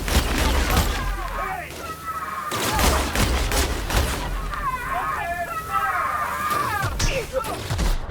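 Gunfire crackles in The Outer Worlds during a firefight, with bursts of shots and thuds running steadily throughout while voices call out over the shooting.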